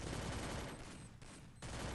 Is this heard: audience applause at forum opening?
no